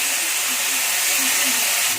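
Fish dropped into hot oil with cumin seeds in an iron kadai gives off a steady, loud hiss of sizzling that runs without a break for the whole short stretch, with no voices over it.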